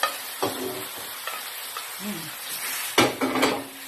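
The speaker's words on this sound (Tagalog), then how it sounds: "Paglagay niyo po ng meat, igisa niyo po siyang mabuti rin" Meat sautéing with onion, tomato and garlic for caldereta: a steady sizzle with scattered spoon-on-pan scrapes and a louder burst of stirring near the end, no talk.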